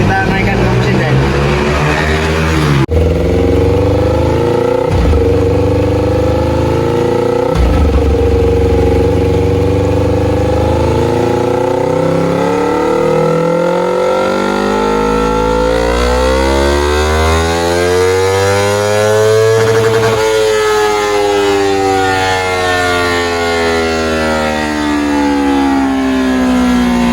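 A Yamaha R25 motorcycle engine revving on a dyno, a loud continuous drone that climbs steadily in pitch through repeated runs, briefly dropping and rising again, with no voices over it.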